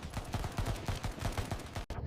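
Battle at a river bridge: rapid, sustained bursts of machine gun fire with a steady pounding rhythm, cutting off abruptly near the end before a final thump.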